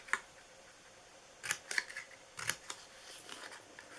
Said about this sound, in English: we're just going to go around and cut these corners